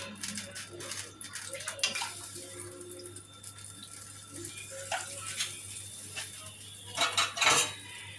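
Pot of molokhia being stirred, with repeated metallic clinks and scrapes of a spoon against the pot and a faint watery swish, close up under a low steady hum.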